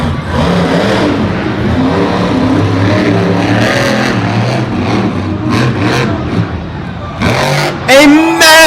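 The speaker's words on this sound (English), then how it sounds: "The truck refires instantly." A monster truck at a Monster Jam arena event in Oakland refires and revs loudly, its engine roaring in rising and falling surges under arena commentary, ending with sharp high-pitched squeals.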